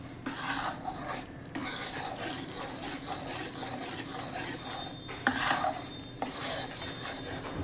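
Flour roasting in ghee in a pan for Gujarati sukhdi over a low flame, stirred continuously with a spoon scraping the metal in a steady close rhythm, with a soft sizzle underneath and no talk.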